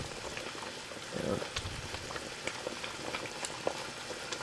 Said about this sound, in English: Just boil it down for a bit, right?